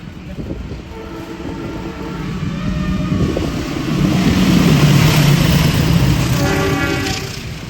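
A special parade train runs straight through Tarik station in Indonesia, a loud, steady rumble of wheels and cars that swells as it nears, with a horn tone sounding over the passing train, close and continuous.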